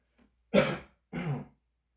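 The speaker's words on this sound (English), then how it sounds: "I hope my cough doesn't interrupt things too much." A man at a seminar gives two harsh, close throat-clearing coughs about half a second apart, loud and raspy, with silence around them.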